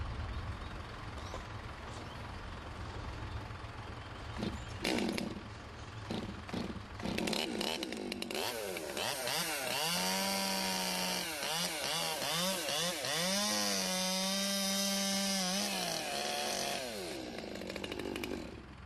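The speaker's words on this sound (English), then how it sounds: "The reason for the swap in the saws is that this has got a much more pointier bar and tends to be a lot easier to control for the boring cuts." A small chainsaw with a pointed bar making boring cuts into a tree during habitat creation work: short bursts at first, then a long, loud run of revving that rises and falls under load as the bar plunges into the wood.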